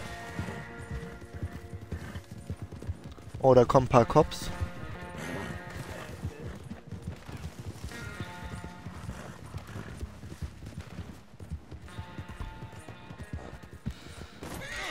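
Horse hooves clatter in the Western video game Red Dead Online, rhythmic clip-clop running through the clip with a loud whinny near the start, under German-speaking players chatting.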